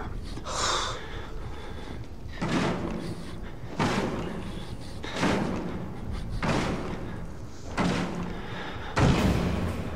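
Repeated heavy door slams and thuds inside the survival horror game Outlast, five or six loud broadband impacts spaced about every one to two seconds, with gasping and breathing between them.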